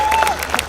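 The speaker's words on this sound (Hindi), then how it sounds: "तालियां कम बज रही है" A brief burst of audience clapping at a Hindi comic poetry recital, a short, moderately loud patter of hands with no voices over it.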